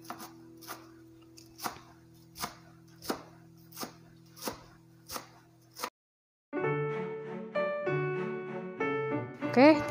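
A knife chops lettuce leaves thinly on a board for gyoza filling, with about eight crisp, evenly spaced strikes, close and loud, then the chopping stops and brighter kitchen noise follows.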